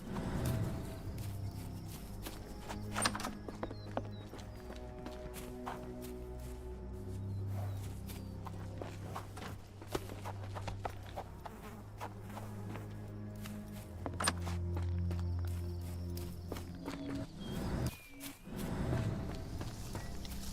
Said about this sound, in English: Oh, I love my horsey.